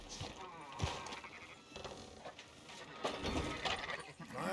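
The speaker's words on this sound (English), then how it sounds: "Fine sheep." Sheep in Red Dead Redemption 2 bleating faintly in a few scattered bursts over a low rural background, with light hoof clops mixed in.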